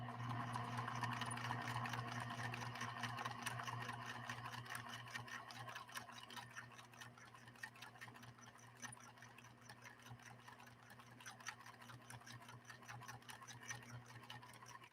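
A PFAFF 1222E sewing machine stitching leather gives off a steady, fast, even mechanical hum with a fine rhythmic clatter, quiet and continuous throughout with no voices.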